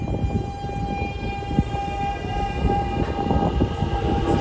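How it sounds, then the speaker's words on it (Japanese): A Hokushin Kyuko subway through-service train pulls out of a station, its low rumbling wheels and motor noise steady under a sustained tonal whine, loud and close with no talking. "京浜中央行きの地下鉄直通の北進急行の電車が出ましたね"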